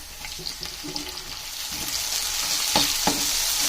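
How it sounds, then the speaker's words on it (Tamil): Onions and tomatoes sizzle steadily in a pan, with occasional stirring clicks and scrapes over the continuous frying hiss. "இப்போ வெங்காயம் கொஞ்சம் வதங்கிடுச்சு. தக்காளி சேர்த்துக்கலாம்."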